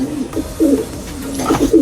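Pigeons coo close by in soft, low, throaty phrases, three or four rolling calls in quick succession.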